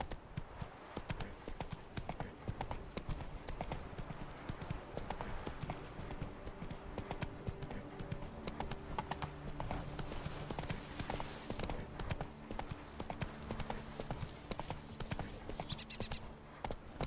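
Roach, a horse in Witcher 3, clip-clops along in a quick, steady hoof rhythm over a busy game ambience, with no voices in the clip.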